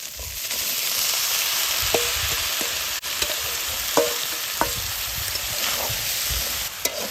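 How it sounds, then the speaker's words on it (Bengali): Chicken mince and potatoes sautéing for samosa filling in a pan, a continuous moderate sizzle with regular light taps and scrapes of a spatula, no talking. "এবার চিকেন কিমাটা কিছুক্ষণ কষে নিব।"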